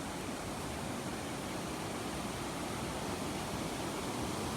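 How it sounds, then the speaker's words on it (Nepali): The Koshi river rushing in Nepal, a broad, steady roar of fast-flowing water, constant and unbroken with no voices over it. "वाउ कोसी पानी बबाल छ नि"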